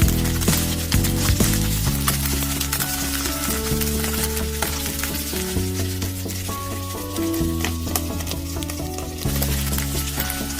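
Garlic and ginger paste frying in a tiny miniature pan for egg curry, a loud continuous sizzle with crackling throughout, alongside sustained tonal notes that sound like background music.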